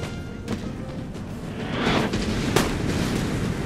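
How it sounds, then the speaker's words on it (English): Canister shot cannon fire booms out in a Napoleon: Total War battle, a few dull distant thumps over steady battlefield rumble, with a sharper crack near the end. "Fire the canister."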